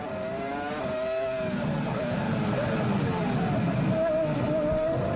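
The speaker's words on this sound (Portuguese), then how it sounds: "o motor da BMW da Williams, alcançando 18 mil giros em Mônaco" The high-revving BMW engine of a Williams Formula 1 car screams through the Monaco circuit, rising and falling in pitch as it passes. A commentator talks over the engine noise.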